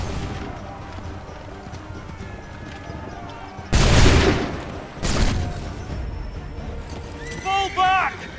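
Musket volley in Assassin's Creed III, a loud ragged burst of massed gunfire followed by a second crackling volley and booming echoes, preceded and followed by shouting voices and battle noise.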